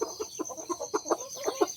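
Chickens cluck in a quick, uneven series of short calls at a farmhouse, close and fairly clear, with a steady high whine running underneath and no talking.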